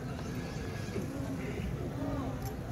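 A mare at an outdoor horse market, with faint hoof shuffles and horse sounds under a busy crowd murmur and people talking close by.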